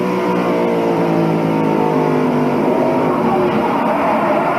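A race car engine heard onboard during the 1992 Bud 500 drones steadily at high revs from close by, its pitch rising and falling slightly as it runs continuously.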